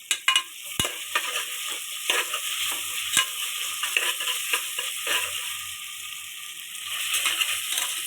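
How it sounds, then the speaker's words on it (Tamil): Onions sauté in a hot pan while a spatula stirs them, giving a bright hiss with quick ratcheting scrapes and taps, loudest at the start and then settling into steady, close stirring. "இது நல்லா வதங்கட்டும்."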